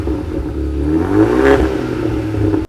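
A 2025 Ford Bronco with a Rough Country dual exhaust revs up once, the exhaust note climbing to a loud peak and then falling back, cut off abruptly at the end.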